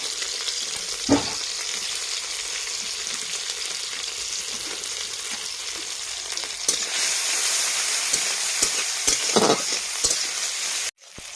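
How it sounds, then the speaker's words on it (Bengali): Tomatoes and onions fry in oil in a pan with a steady, loud, close sizzle that runs throughout, broken by a few sharper crackles and stirring clatters. "পেঁয়াজটা ভাজা ভাজা হয়ে গেছে।"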